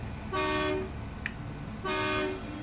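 Two sustained truck horn blasts from the SnowRunner video game, each lasting about half a second with a pause between, loud and close, with a faint click in the gap.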